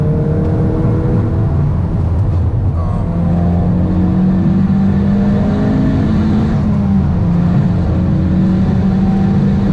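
Ford Focus RS fitted with a Mountune exhaust, driven fast on the road: a loud, steady engine note with rising and shifting harmonics as it accelerates, continuous throughout with no talking.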